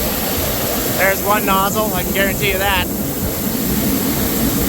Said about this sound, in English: Sorry about the wind, guys, but we are in southwest Saskatchewan.